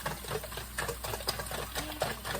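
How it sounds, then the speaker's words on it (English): Eggs are whisked by hand in a bowl for a frittata. Rapid, even clicking and tapping strokes repeat close up in a fast, steady rhythm for the full few seconds. "We're whisking the egg."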